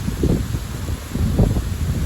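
Strong gale-force wind buffets the microphone in steady low rumbling gusts, with surges near the start and again in the second half, loud and continuous with no talk.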